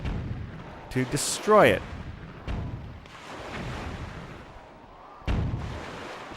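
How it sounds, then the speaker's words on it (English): Cannons fire in The Legend of Zelda: The Wind Waker as heavy booming blasts, several separate shots spread across the stretch, with a voice talking over them. "We have a lot of cannons firing at us"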